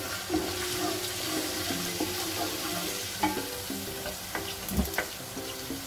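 Garlic and ginger paste frying in oil, steady sizzling with intermittent stirring clinks and scrapes, a busy close-up cooking sound with no voices.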